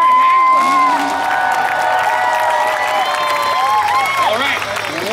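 A crowd applauds and cheers at a freestyle motocross show in Hillsboro, Oregon, with continuous clapping, whoops and shouts, and an amplified announcer's voice over the crowd.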